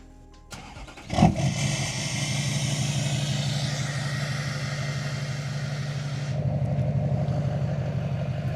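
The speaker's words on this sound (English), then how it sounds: "let's start up the pickup." A pickup truck engine cranks and fires up abruptly, then settles into a steady, loud idle with a deep rumble that continues alone to the end.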